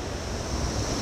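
At the Yaworang waterfall in Panchthar, water crashes and sprays nearby. It makes a dense, steady roar with some low rumble, loud and unbroken for the whole second.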